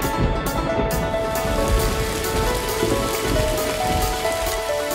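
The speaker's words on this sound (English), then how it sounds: "Oh, it started raining." Steady rain pours down, a dense continuous patter of drops on a hard surface, close and moderately loud with no pauses.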